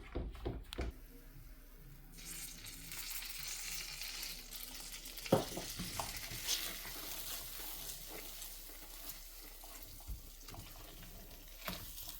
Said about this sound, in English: So this is how you keep stirring it until you achieve that beautiful color.